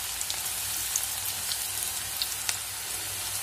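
Ragi onion pakoda bubbling in hot oil, a steady close sizzle with scattered crackles and pops throughout, no voices.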